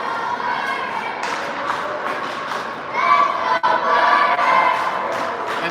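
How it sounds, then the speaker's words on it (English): Crowd noise from spectators at a 10U youth hockey game at the MLK Classic semifinal, a steady wash of cheering and shouting voices that swells louder around the midpoint with a brief thud. "And the crowd goes wild."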